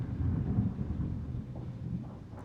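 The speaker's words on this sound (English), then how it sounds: "Sorry, getting thunder, guys." Thunder rumbles low and continuously, a deep rolling boom that slowly fades, moderately loud with no voices over it.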